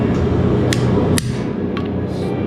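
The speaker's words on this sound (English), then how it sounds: "smack the hammer and the chisel." Three sharp metallic hammer strikes ring out on a slitting chisel at irregular intervals, cutting lines into a forged leaf finial, heard close over a steady low humming background.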